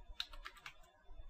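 Several quick keystrokes on a computer keyboard, light clicks in an uneven burst, close and quiet, as a command is typed at a terminal.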